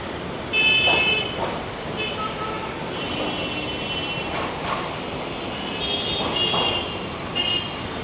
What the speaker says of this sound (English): We are above the honks,